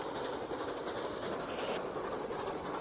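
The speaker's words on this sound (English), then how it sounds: "That is a cool locomotive" Locomotive running in the Transport Fever 2 video game: a continuous loud rumble of rolling train wheels with a rhythmic rail clatter and a brief hiss partway through, no talk.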